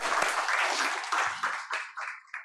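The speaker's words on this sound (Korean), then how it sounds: "우리 하나님께 영광의 박수 올려드리겠습니다." A church congregation applauding during a Sunday worship service, a dense wash of clapping that thins into a few scattered bursts toward the end.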